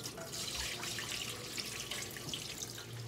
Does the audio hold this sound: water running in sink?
yes